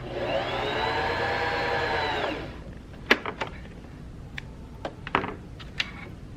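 A sewing machine winds a bobbin with a steady high whirring motor hum for about two and a half seconds, then stops, followed by scattered light clicks and taps of handling the thread and bobbin.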